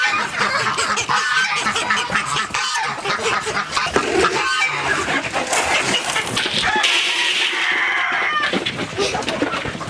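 A noisy barnyard chorus of honking geese and clucking chickens, dense and continuous, with overlapping calls close by.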